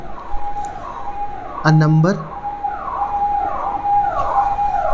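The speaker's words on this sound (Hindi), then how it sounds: "पुलिस की सायरन की आवाज़ तो नहीं आ रही हो तो इग्नोर कर देना यार" A police siren wails faintly in the distance, rising and falling under a steady tone, while a person speaks briefly nearby during a maths lesson.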